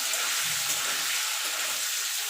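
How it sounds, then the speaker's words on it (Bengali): Paneer cubes frying lightly in hot oil, giving a steady, close hiss of sizzling with no talk, lasting a couple of seconds. "হালকা করে ভেজে নেবো খুব কড়া করে ভাজবো না"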